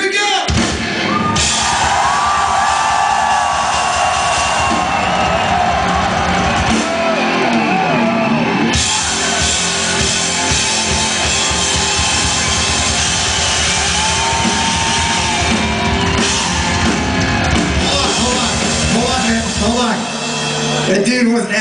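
Crowd at a live rock concert at the 229 Club in London, loud sustained screaming, whooping and yelling over music that runs continuously, with brief dips and surges.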